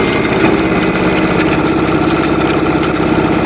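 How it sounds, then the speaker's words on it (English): A sewing machine stitching the panels of a felt bag runs in a loud, continuous, fast rhythmic whir with an even mechanical pulse throughout. "then I'm going to sew this, following the guide"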